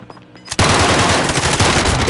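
Loud burst of rapid automatic gunfire in a shooter game, erupting suddenly after a quiet moment and continuing as a steady fusillade.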